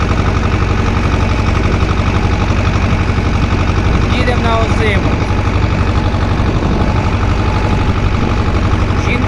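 A T-25 tractor engine runs loud and close at sowing time in a wheat field, a dense continuous mechanical drone with a rattling pulse, while a person speaks briefly over it.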